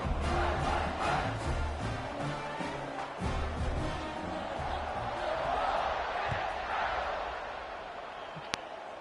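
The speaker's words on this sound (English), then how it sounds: "this crowd is buzzing after that last score" A stadium crowd in a college football video game, Ole Miss matchup, buzzes loudly and steadily after a score, a dense continuous roar with a brief sharp knock near the end.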